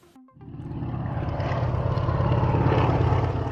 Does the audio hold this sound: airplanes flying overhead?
yes